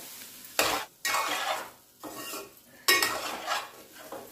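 Cooked mint rice being stirred and mixed in a pan, with several distinct bursts of close scraping and shuffling from the spoon separated by quiet gaps, under a faint sizzle and with no talking.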